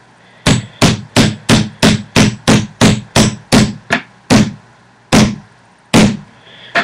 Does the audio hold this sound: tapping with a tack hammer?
yes